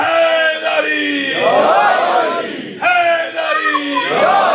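A Muharram majlis congregation in Woking shouts the chant "Haidri" in unison: two loud, drawn-out crowd cries, each swelling and falling, with a brief dip between them.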